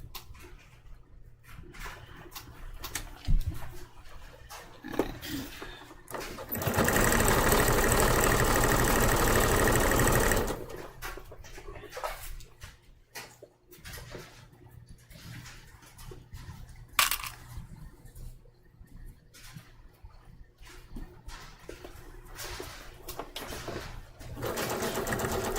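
A sewing machine stitches a seam beside elastic in a steady, loud whirring run of about four seconds, surrounded by quieter fabric handling and soft clicks.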